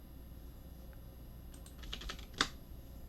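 Keys tapped on a computer keyboard while entering a decimal number into a Python program, a short burst of clicks ending in one louder keystroke over a faint steady background hum.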